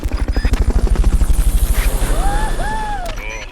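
Fulton recovery helicopter in the Metal Gear Solid: Peace Walker video game, a loud rhythmic rotor thumping that fades slightly while sweeping electronic tones rise over it.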